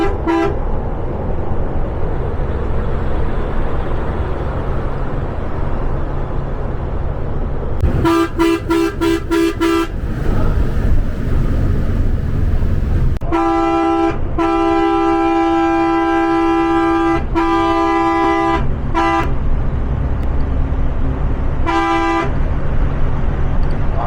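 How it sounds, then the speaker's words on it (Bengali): Buses and trucks pass one after another on a highway at night on the Sirajganj to Dhaka route, sounding loud, repeated horn blasts: short toots in bursts, then longer sustained honks over constant road rumble. "একটার পর একটা বাস ট্রাককে দিয়ে চলেছে সড়ক পথে"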